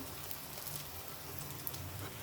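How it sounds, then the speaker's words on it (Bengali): Chili chops fry in oil with a faint, steady sizzle and soft crackle, low and close, with a brief clink at the end. "এভাবে সব চপগুলো ভেজে উঠিয়ে নেব"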